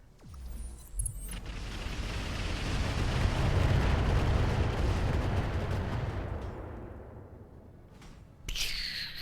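Heavy weapon fire and explosions in the mech combat game Battletech with the Roguetech mod, a long rumbling blast that swells to a loud roar and slowly fades, followed by a sharp burst.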